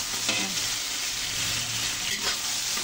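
Loud, steady sizzling of aromatics sautéing in a hot pan for bulalo beef soup, with a couple of brief stirring scrapes and no talk.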